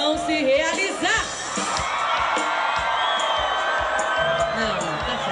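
A large crowd at a live show cheers and shouts with hands raised, loud and continuous, along with whoops and voices that rise above the roar.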